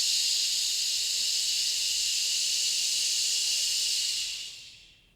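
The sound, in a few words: shh breath, exhaling with a hissing shh sound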